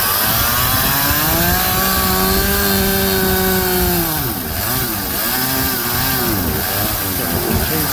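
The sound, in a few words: chainsaw running on portable chainsaw mill cutting wood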